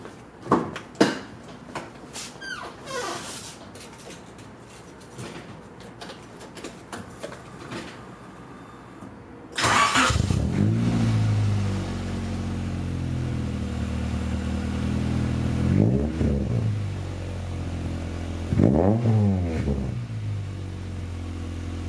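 A 1991 Honda Civic Si with a B16A engine and Skunk2 MegaPower exhaust cranks and fires up loudly after some quiet clattering, then settles into a steady, close idle with two brief revs blipping above it.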